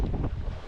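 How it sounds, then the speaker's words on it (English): Gusty side wind buffets the microphone aboard a sailboat under a reefed mainsail, a loud, steady rumbling rush with no voices. "Winds are quite gusty from the side,"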